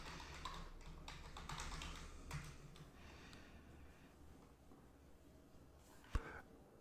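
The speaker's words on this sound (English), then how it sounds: "I'll type in learntechplus.com." A web address being typed on a computer keyboard: faint, quick key taps over a steady background hiss, with one sharper tap near the end and no talking.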